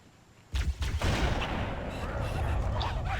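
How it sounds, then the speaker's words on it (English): A sniper rifle shot in the Halo Combat Evolved video game, with a sudden, punchy blast, a quick second report and then a sustained rumbling tail of ambient noise. "They definitely make the sniper rifle in this game sound very punchy, that's for sure"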